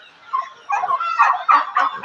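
Turkeys kept as breeding parents on a mixed poultry farm, short close gobbling and clucking calls in quick bursts.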